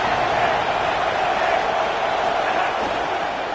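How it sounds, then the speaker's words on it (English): Dense stadium crowd roar from a College Football 27 video game, a steady wash of massed cheering that stays loud and unbroken throughout, with no clear individual voices standing out. "This crowd ready to make its presence known."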